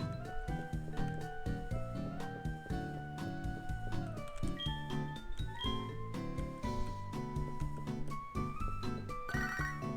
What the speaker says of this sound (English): I am not answering the phone.